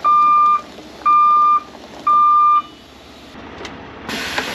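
A gravel truck spreading gravel on a ranch backs up with three loud, evenly spaced reversing beeps close by, each about half a second long. A steady engine rumbles underneath, and a brief hiss follows at the end.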